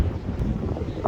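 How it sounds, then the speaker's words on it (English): Steady wind buffeting the microphone, a loud low rumble with gusty swells throughout and no voices. "Oh man, that wind's a whipping."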